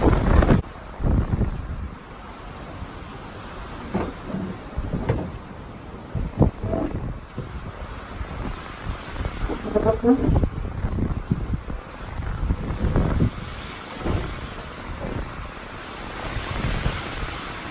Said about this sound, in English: I just want to show you this wind. It is something else. Might lose some trees today.